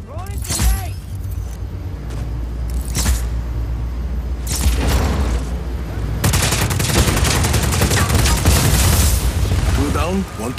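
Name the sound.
grenade explosion and gunfire in video game Just Cause 4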